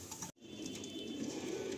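Fulsira pigeons of the Andhra line coo softly in a loft, making faint, low, repeated murmuring calls with a little background hiss. A brief dropout breaks the sound early on, and there is no talk.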